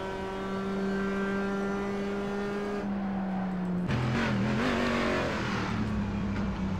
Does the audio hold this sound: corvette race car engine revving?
yes